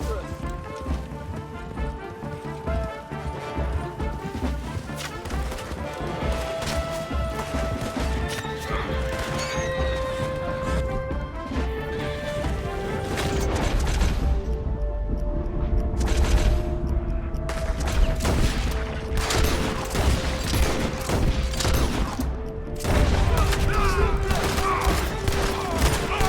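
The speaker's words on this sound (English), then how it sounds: "That explosion came just in time." Gunfire and an explosion in the video game Red Dead Redemption 2, dense shots crackling over horse whinnies and hoofbeats, with loud crashes and characters shouting throughout a chaotic chase.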